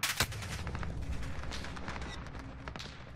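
Gunfire in a Modern Warfare ground war match: a sharp loud shot followed by scattered rapid bursts and cracks at mid distance, continuing through the clip without voices.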